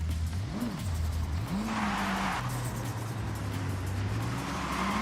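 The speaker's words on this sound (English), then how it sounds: "Something's wrong with the engine." A car engine in the racing game Forza Horizon 6, driven with a wheel, revs up and down in sweeping pitch changes, with a whining tone suggesting engine trouble and a brief burst of tire noise, no talking.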